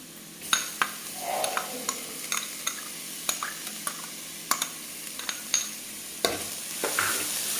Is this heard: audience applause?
no